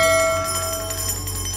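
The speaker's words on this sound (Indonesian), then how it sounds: "Ih, kok bunyiin lonceng sih" A single bell rung once, with a bright ringing tone that decays over about a second and a half, alone and close.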